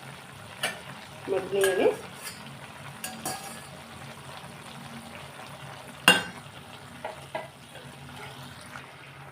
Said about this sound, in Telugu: నేను ఇక రొయ్యలు కూడా వేసేస్తున్నాను